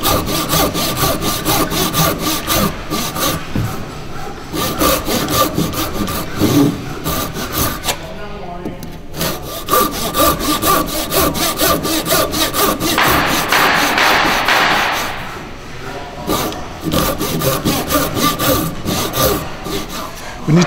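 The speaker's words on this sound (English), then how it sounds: "This time I'll keep it straight, so I'll just cut down to my lines." Hand saw cutting down the lines of a timber tenon held in a vise, steady rhythmic rasping strokes close by, a brief pause midway, then continued sawing with a brighter, harsher stretch of strokes.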